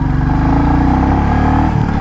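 A 2024 Royal Enfield Classic 350, a 350 cc motorcycle carrying a pillion rider, pulls away in first gear with a close, loud, low thumping exhaust that rises in pitch as it accelerates.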